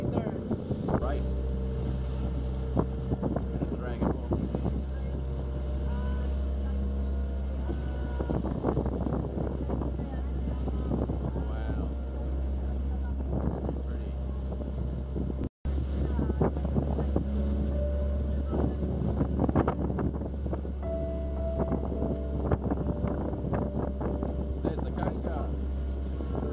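Boat motor droning steadily on the water during an El Nido island tour, with a low engine rumble and wind buffeting the microphone throughout, while people talk over it at intervals.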